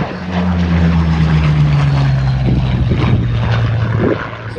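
A formation of propeller aircraft roars past at an airshow at East Leeds Airport, a loud, droning engine hum whose pitch slowly falls as the planes pass and recede.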